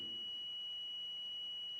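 A steady, continuous high-pitched electronic tone from an Arduino buzzer triggered by an ultrasonic sensor holds unbroken throughout, with a faint low hum beneath and no voices.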